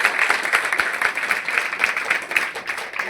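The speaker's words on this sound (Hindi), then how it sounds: "इसके लिए जोरदार ताली होनी चाहिए।" Applause and clapping fill a celebration for selected students at Rajnagar physical academy in Madhubani, steady and fairly loud throughout with faint voices mixed in.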